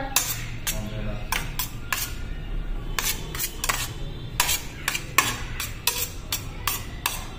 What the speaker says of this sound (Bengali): এই দেখুন ঘি মেখে দিলাম ওকে ভাতে।